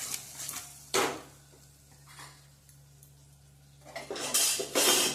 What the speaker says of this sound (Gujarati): હવે ફરી આપણે એને હલાવી દઈશું